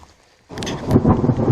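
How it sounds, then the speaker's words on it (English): Rain and thunder on a hiking trail in Linville Gorge in April: after a quiet half second, a loud rumbling thunder roll bursts in, with dense rain hiss continuing close and heavy. "and as usual it started to rain"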